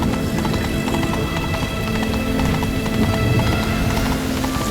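A horse gallops in The Witcher 3: Wild Hunt, with rapid, continuous hoofbeats at close range over a dense, busy game soundscape throughout.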